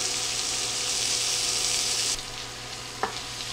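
Smoked sausage sizzles and chars in a single pot, a steady loud frying hiss that suddenly drops quieter partway through, followed by a brief clink.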